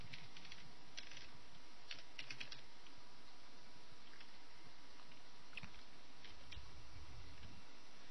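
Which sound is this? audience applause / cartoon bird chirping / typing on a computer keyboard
typing on a computer keyboard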